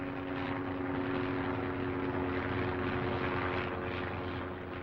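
A Sopwith Camel biplane flies with its rotary engine running, a steady, loud propeller drone holding throughout with no break.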